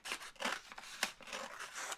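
Scissors snip through Cricut transfer tape during a night crafting session, a run of quick crisp close cuts in uneven rhythm, several distinct snips over a couple of seconds with no talking.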